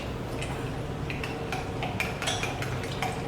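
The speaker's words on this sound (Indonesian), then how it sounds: "Adukkan sampai rata men." A spoon stirring espresso with hot water for klepon coffee, with light clinks and taps against the cup repeating irregularly over a steady background hum.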